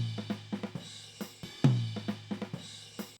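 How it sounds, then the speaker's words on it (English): An isolated tom track from a four-piece drum kit, a rack tom with snare and cymbal spill bleeding in: a quick pattern of muted, close hits at varied strength, with one heavier boomy tom stroke in the middle. "My tom sounds like this."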